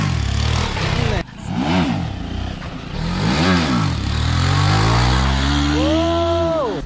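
A Yamaha R15 V4 motorcycle with a loud aftermarket exhaust revs hard in repeated rising and falling bursts, then holds a long climbing roar as it pulls a wheelie, loud and close throughout.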